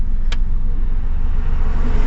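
A 2004 Maruti 800 carburetted engine runs with the choke pulled, a steady loud low idle rumble with one brief sharp click early on.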